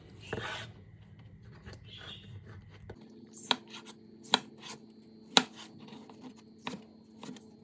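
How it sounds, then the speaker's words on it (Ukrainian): A knife dices a tomato on a cutting board, with a few soft scraping and rubbing sounds first, then a series of sharp, isolated chopping taps spaced about a second apart, close and quiet in a kitchen. "Також нарізаємо кубиками наш томат."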